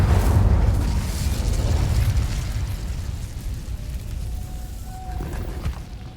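Incendio fire spell cast in Hogwarts Legacy: a loud, dense burst of roaring flame that swells at once and then rumbles steadily on for several seconds, fading slightly, with a faint tonal whine near the end.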